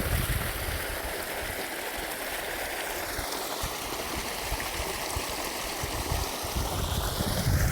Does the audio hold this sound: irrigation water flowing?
yes